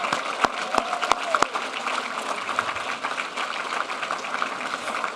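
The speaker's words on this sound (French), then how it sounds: "Mesdames et messieurs, applaudissons les nouveaux Fellows." Applause rises in a hall at a formal Fellows gala, a few sharp claps up front at first, then a steady, moderately distant wash of clapping that carries on evenly.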